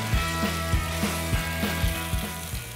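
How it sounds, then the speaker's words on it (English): Turkey meat fries in a cast iron skillet, a steady close sizzle with regular soft scraping knocks as a utensil breaks up the meat, and no talking. "So now I'm gonna add the turkey meat to the cast iron skillet."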